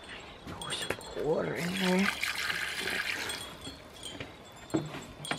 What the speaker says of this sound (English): Pour some water in there.